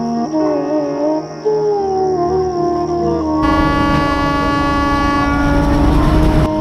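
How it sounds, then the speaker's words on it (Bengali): A 35-year-old shuttle train between Rajbari and Kushtia, bound for Daulatdia ghat, rumbles steadily along the rails, its horn sounding in long sustained tones over the heavy mechanical roar. "দৌলদিয়া ঘাটের উদ্দেশ্যে এ ট্রেনের যাত্রা শুরু"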